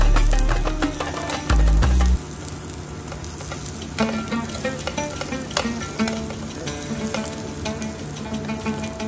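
Marinated eggplant slices fry on a tawa pan with a soft, steady sizzle. A louder thump comes early as the slices are turned, then the frying continues quietly with faint ticking.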